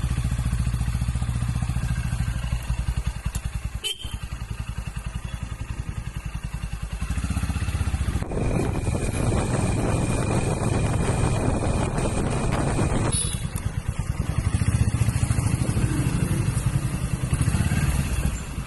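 A motorcycle being ridden, with a steady engine drone and heavy wind buffeting the microphone throughout, rising louder midway as speed picks up, with no talking.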